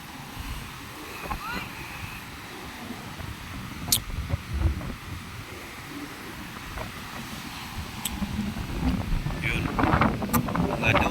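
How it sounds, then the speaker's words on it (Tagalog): Gusty wind buffets the microphone while big Pacific Ocean waves surge and splash nearby on the coast of Samar, swelling louder toward the end as a person talks over it. "malalakas yung hangin lagi at saka malalaki alon dahil nakaharap tayo sa Pasipiko"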